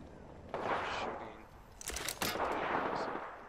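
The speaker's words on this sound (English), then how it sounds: "Ooh, someone shooting you guys?" Video game gunfire, a few distant crackling bursts of shots with a sharper volley near the middle, moderately faint under background game noise.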